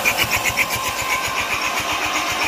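A freshly installed engine in a manual Audi S3 8P, tuned past 400 hp, idles right after its first start, a steady close, loud rumble with a regular pulsing beat and a turbo whine on top.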